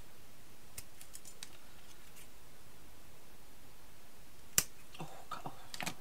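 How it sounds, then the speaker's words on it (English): Scissors snip a few times close up, sharp little clicks scattered over a soft hiss, with a louder cut near the end. "I need my scissors to cut the end off"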